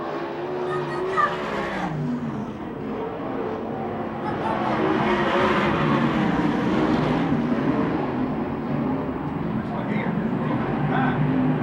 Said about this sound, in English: We got about 6 cars battling for second.